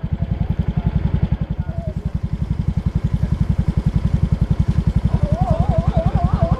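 Motorcycle engine idling with a steady, rapid, loud low thump and clatter, close by, with faint background sounds and no clear talk.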